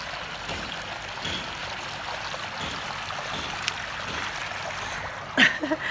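Water flows and trickles gently at a hotel waterfront on Oyster Bay in Tanzania, a soft continuous wash with a small splash near the end.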